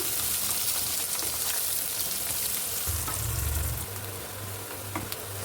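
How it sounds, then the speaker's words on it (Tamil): Onions and garlic sauté in oil for a garlic pepper kuzhambu with a steady close sizzle, joined midway by a louder low rumbling burst before settling back to the hiss. "இப்போ இது எல்லாமே வந்துட்டு நம்ம வந்து நல்லா வதக்கி விடலாம்"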